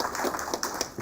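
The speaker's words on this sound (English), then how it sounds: "maybe one more round of applause for DGFT" Applause from an audience at a policing and drone industry awards session, a steady patter of many hands clapping with distinct claps rising above it, fairly close.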